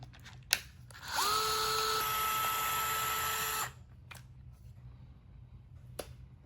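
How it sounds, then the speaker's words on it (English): A power tool spins up to remove gear cover bolts on a Traxxas Maxx RC car, one steady high whine lasting about two and a half seconds, close and clear, framed by a few sharp clicks. "Right now we're removing the gear cover."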